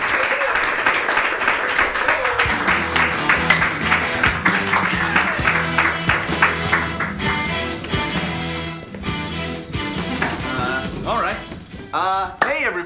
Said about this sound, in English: So a round of applause, everybody, for Primal Bias